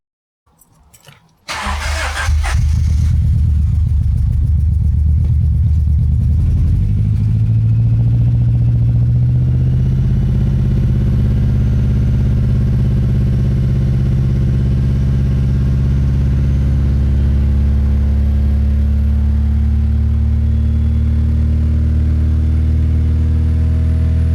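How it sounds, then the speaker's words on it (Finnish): A 1990s Honda car engine with a repaired ECU wiring harness cranks briefly, then catches and roars into loud, sustained high revs that hold steady for the rest of the clip, close up. "Se vaan pyöri kyllä aika korkealla kierroksilla."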